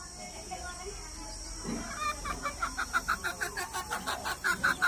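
A broody black hen clucks in a quick, steady series of short notes, close by, with low background voices and farmyard noise.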